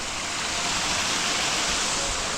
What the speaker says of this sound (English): It's such a thick waterfall.